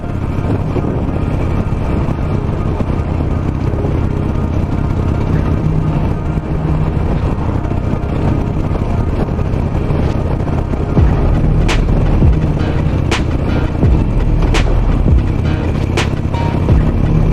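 A Harley-Davidson Nightster motorcycle is ridden on a cold winter road and geared down for a hill, giving a loud, continuous engine drone under heavy wind roar, with a few sharp clicks or knocks late in the ride.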